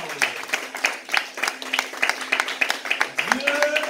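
A church congregation applauds during a sermon by a pastor. Steady clapping comes from many hands in a rhythmic, moderately loud stream, and murmured voices mix in.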